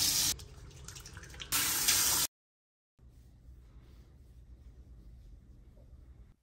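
A tap runs as hands are washed at a sink before a sensor insertion, the gush loud and close, briefly changing and stopping abruptly, then a quiet room follows.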